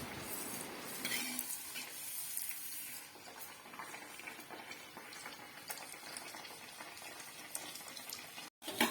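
Puli vadai fry in hot oil with a steady bubbling sizzle. Oil is ladled over them now and then, adding soft splashing. The sound stays close and moderately quiet throughout.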